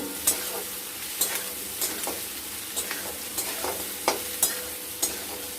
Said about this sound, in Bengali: এবার আলাদা আলাদা করে সামান্য ভেজে নেব